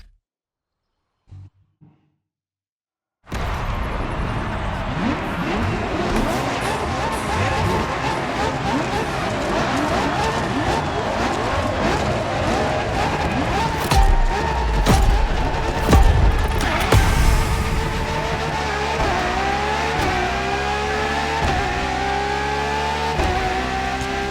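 La Ferrari hybrid supercar from 2013 in a racing game, its engine droning and revving steadily for about twenty seconds after a quiet start, with pitch rising and dropping through gear changes and brief louder surges.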